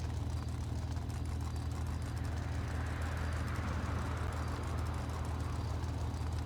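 A truck engine in the GTA 5 video game idles steadily after cranking up, a low constant rumble holding at an even level throughout.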